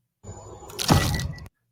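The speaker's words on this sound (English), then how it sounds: "There was that sound again, that crunching sound" A single harsh crunching burst from the Alien: Romulus trailer swells and cuts off abruptly, loud and close, like something being crushed or shattered.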